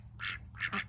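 Farm ducks in a mixed flock of males and females giving three quick nasal quacks close by, with no talking.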